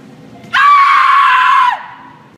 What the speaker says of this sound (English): Let me hear your war cry.